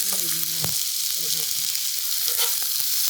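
Chicken fried rice sizzles steadily in oil on a Blackstone griddle, a constant close hiss with a few light scraping taps from a spatula, no voices.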